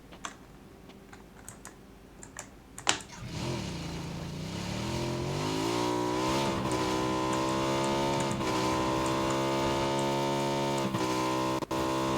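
A motorcycle engine in the battle royale video game PUBG starts up after a few quiet seconds of faint keyboard clicks, then holds a loud, steady drone whose pitch rises and falls as it revs.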